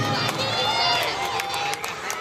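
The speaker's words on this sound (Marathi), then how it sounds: "जरा जोरात टाळ्या, जोरात आवाज." An audience at a bodybuilding contest applauds and cheers, a dense, steady wash of clapping with scattered louder claps and a crowd roar, while an announcer speaks over it.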